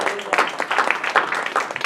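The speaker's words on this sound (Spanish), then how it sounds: "Denle ese aplauso al Señor." Congregation applauding in a church service, a dense rattle of many hands clapping at a steady, moderately loud level with irregular bursts throughout.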